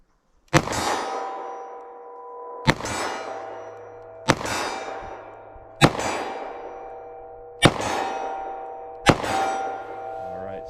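Six loud gunshots from a compact 9mm or .38 Special handgun fired double action at a range, spaced roughly a second and a half apart, each with a sharp crack and ringing decay.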